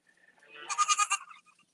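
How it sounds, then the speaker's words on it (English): A big white goat gives a short, quavering bleat, fairly close and clear, rising and then fading, with no talk over it. "When we first got Aurora, our big white goat, you can see her over here"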